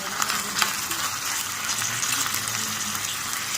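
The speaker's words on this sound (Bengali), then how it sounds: "এবার আমি তেলে ভেজে নেবো।" Ginger garlic paste frying in oil for a miniature-kitchen khichuri, a steady dense crackling sizzle, close and continuous with no voices.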